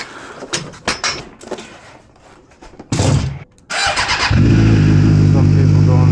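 A jigsaw motorcycle starts after brief handling noises, its engine catching with a burst and settling into a loud, steady idle close by.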